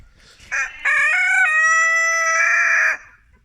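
A rooster crows once nearby, loud and clear: a stuttering start that breaks into a long, drawn-out call before cutting off.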